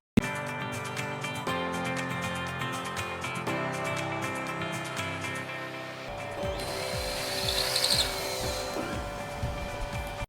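A dental profile drill, 3.8 in size, runs during implant placement, giving a steady high whirring tone with harmonic bands, then shifts pitch and grinds more intensely near the end.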